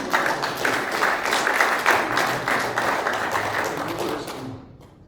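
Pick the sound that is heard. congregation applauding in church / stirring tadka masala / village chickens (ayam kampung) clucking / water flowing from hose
congregation applauding in church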